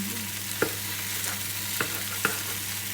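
Onions browning in a pan, a steady close sizzle broken by a few sharp taps and scrapes as they are stirred, no talking.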